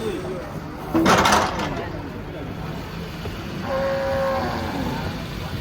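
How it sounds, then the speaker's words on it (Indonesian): A large cow lets out a long, loud moo near the end while being unloaded from a truck at a livestock market, with people talking and engine noise rumbling in the background. "Sapi besar mau turun"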